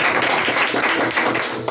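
A church congregation at a Portuguese-language sermon by Pastor Rafael Duarte applauding, a dense, fairly loud burst of clapping that holds steady for under two seconds.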